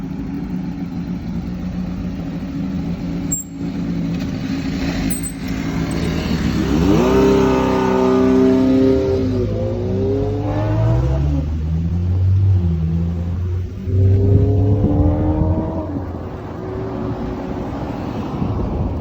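A BMW motorcycle engine revs up nearby outdoors on a street in Japan, several rising and falling pulls of throttle over a low idling rumble with some wind noise.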